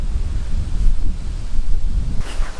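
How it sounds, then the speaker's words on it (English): Strong wind buffets the microphone in loud, low gusts at an outdoor bee yard, rising and falling continuously, with a brief rushing swell near the end. "It's really windy today, so we'll have to make do."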